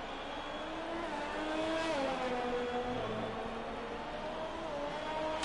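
Formula racing cars on hot laps at the Hungarian Grand Prix in a sim race, engines droning and shifting pitch as cars run at a distance, fairly faint and continuous.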